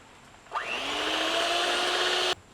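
An electric mixer blends mayonnaise with chopped garlic. Its motor whirs up abruptly, holds a steady, close, rising-then-level hum for about two seconds, and cuts off sharply, with no talk.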